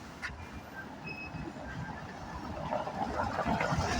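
A Sofia tram on line 21 pulls in with a steady rumble of wheels on rail that swells toward the end, some faint squeal tones above, heard nearby in an outdoor street setting without talk.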